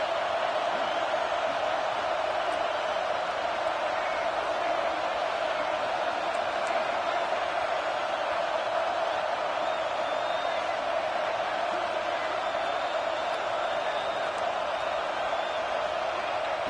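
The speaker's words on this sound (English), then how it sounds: "Third down and the crowd really getting into it" A college football video game stadium crowd cheering on third down sends up a continuous, dense roar of voices that stays loud and steady throughout, with faint whoops poking out, and no commentary on top.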